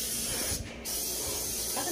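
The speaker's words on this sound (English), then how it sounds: "Got my handy Lysol. Make sure I spray the doors and stuff." A steady hissing spray of Lysol aerosol disinfectant on doors runs almost continuously for two seconds, close by, with a brief dip partway through before resuming.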